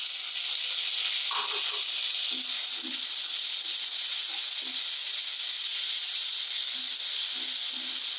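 Tomatoes frying in a pan with already-browned onions, giving a steady, loud broadband hiss and sizzle with faint low bubbling pops underneath, continuous and close throughout.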